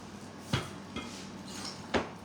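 Utensils scraping and clinking against a bowl while vegan food with a teaspoon of salt is mixed, with three sharp knocks spread across a soft background.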